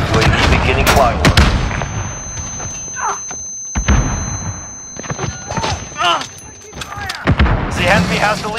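Gunfire and explosive thuds in a first-person shooter video game, with loud bursts early and near the end, mixed with game voice announcements and speech throughout.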